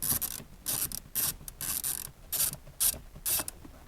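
An Allen key turns in short ratcheting bursts to free a double-DIN radio cage from a Fiat Panda 169's dashboard. Close, dry clicking comes in about eight separate bursts, with no talk.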